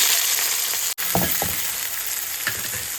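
Onions and green chilies frying in a pan with a little rock salt give a steady sizzle. A few short scraping stirs break through it, and no one speaks.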